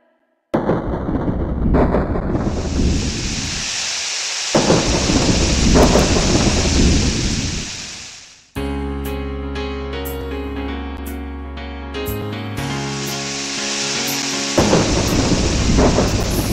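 Thunder rumbling with steady rain, heard loud and close from the start, then dropping away as music takes over in the middle before the storm swells back in at the end.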